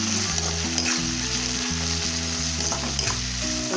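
Tomatoes sizzle and fry in a hot pan for a vegetarian Tamil lunch, giving a loud, steady crackling hiss from close by that continues throughout with no talking.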